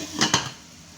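Lid set onto a cooking pot of chicken with pineapple, potatoes and carrots, two quick metallic clanks close up followed by a faint hiss.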